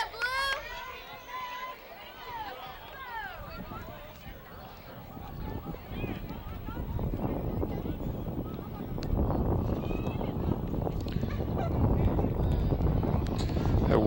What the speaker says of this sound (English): That wind picking up.